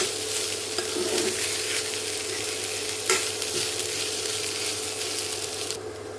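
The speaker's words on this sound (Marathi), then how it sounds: "पुन्हा एकदा परतून घेऊया।" A healthy snack mixture with biryani masala being sautéed in a pan, producing a continuous frying sizzle with a brief scrape of the spatula partway through.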